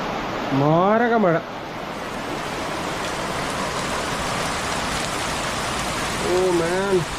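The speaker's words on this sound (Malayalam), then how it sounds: "മാരക മഴ." Heavy rain pours down outside while indoors, a dense, steady hiss filling the background, loud and constant, with a voice speaking briefly at the start and again near the end.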